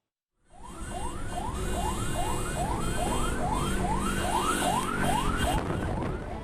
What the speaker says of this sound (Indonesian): ambulans yang sudah membunyikan sirene sebagai tanda kedaruratan